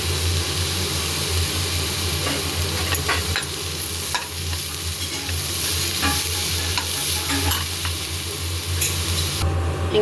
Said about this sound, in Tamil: அதுலேயே நம்ம கொஞ்சம் புளியை போட்டு அதையும் வதக்குறோம்